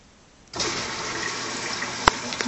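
A Maytag Bravos top-load washing machine suddenly starts filling, water gushing steadily after a quiet moment, with a brief clunk partway through and no talk.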